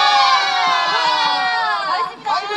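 An audience at an outdoor family music festival claps and cheers, with children shouting and a loud, dense crowd roar that holds steady and then dips briefly near the end.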